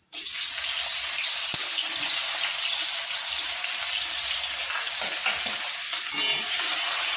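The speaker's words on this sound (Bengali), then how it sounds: "এই গরম তেলে দিয়ে দেবো আমি গোটা গরম মশলা তারপর দিয়ে দেবো পেঁয়াজ কুচি" Chopped onion and whole garam masala frying in hot oil, a loud, dense, continuous sizzle that starts abruptly and holds steady close up, with faint stirring knocks underneath and no talking.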